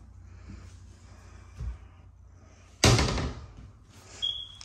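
A drawer or cabinet in a double-wide mobile home shuts with one firm thud and a rattle, close and fairly loud, after a few faint handling knocks and with no talk.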